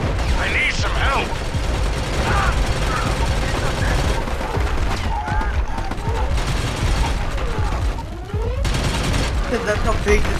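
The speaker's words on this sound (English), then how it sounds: "it's a submachine gun" Sustained submachine gun fire in the Army of Two co-op shooter, dense rapid bursts with mechanical clatter running almost continuously, loud and close, with brief voices and game effects mixed in.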